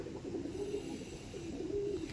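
Andhra pigeons, an active male and female pair, give soft low cooing calls in two drawn-out phrases, close and steady against a faint background hum.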